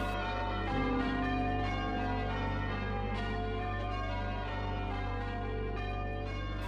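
Church bells at Rosscarbery Cathedral in Cork ring out loud and sustained, with overlapping strikes whose tones hang and blend into a continuous ringing peal, with no talk.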